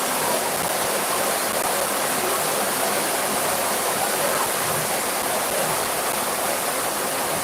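Heavy rain pours down at night in a dense, steady hiss that stays constant and fairly soft throughout, with no voices over it.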